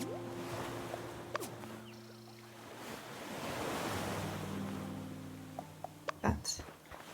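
Ocean waves wash ashore in the video game Hokko Life. Breaking surf swells and fades over soft wind, with sustained background music tones and a few light clicks near the end.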